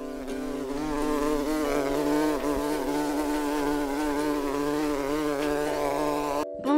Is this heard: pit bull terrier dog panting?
no